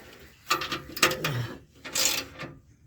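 A ratchet tightens bolts on a heavy-duty steel bumper under a Jeep Wrangler JK, giving a few short bursts of quick metallic clicking with brief pauses in between, close and fairly quiet.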